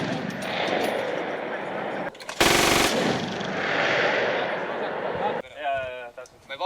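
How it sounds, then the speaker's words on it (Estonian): Military support weapons firing during a live-fire exercise with reservists, heard as a loud sustained burst of machine-gun style fire amid continuous outdoor noise, with voices over it near the end. "viivad läbi esmased laskeharjutused siis"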